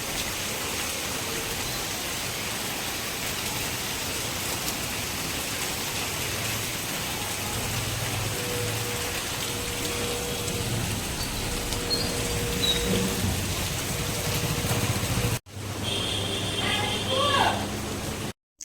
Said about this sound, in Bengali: তোমাদেরকে দেখাই যে কেমন বৃষ্টি পড়ছে